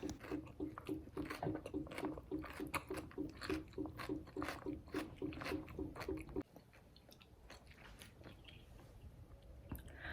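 Someone chews a crunchy sweet and sour snack dressed with vinegar and mayonnaise, close and quiet, with rhythmic bites and crunches that soften into wetter, gentler chewing near the end.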